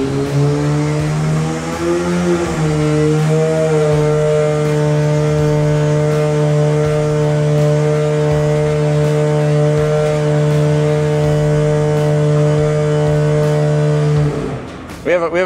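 Arctic Cat Catalyst 600 snowmobile engine with a Straightline Performance single-pipe exhaust running on a dyno, a loud steady drone that rises briefly early on, then holds at a constant pitch before cutting off near the end.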